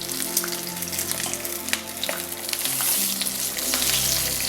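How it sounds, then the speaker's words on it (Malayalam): Big chillies sauté in oil with a pinch of salt for Mirchi ka Salan, giving a loud continuous sizzle close up, with steady stirring clicks from a spoon against the pan. "ഇനി 1 മിനിറ്റ് കൂടെ ഒന്ന് വഴറ്റി വെച്ച് മാറ്റി വയ്ക്കാം"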